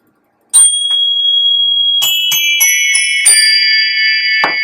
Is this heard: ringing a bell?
yes